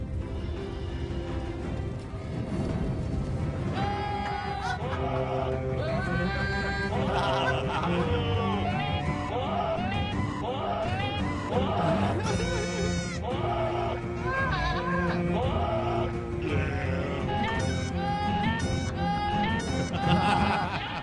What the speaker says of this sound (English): they have goats singing the Game of Thrones.